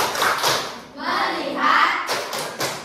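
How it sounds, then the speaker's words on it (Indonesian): A middle school math class claps out the tepuk fokus rhythm, several grouped bursts of hand claps and thuds with pauses between, children's voices mixed in. "Coba kita tepuk fokus sekali lagi."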